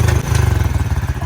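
A motorbike engine idles close by in a Pakistani village, a loud, fast, even thumping pulse with a slight rattle, steady for the whole brief moment.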